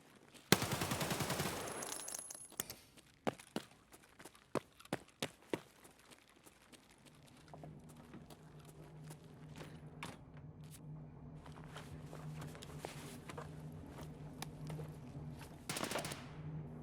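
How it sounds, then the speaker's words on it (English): Close gunfire from another player in the video game Escape From Tarkov: a dense burst of automatic shots at the start, then several single sharp shots and scattered reports over a low ambient hum, with another loud burst near the end. "That sound is definitely a player shooting and very close too."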